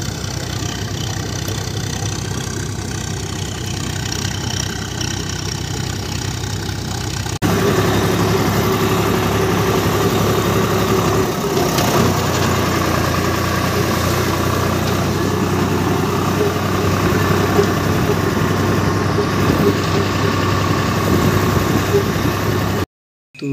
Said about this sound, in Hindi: ट्रैक्टर चल रहा है, खेत में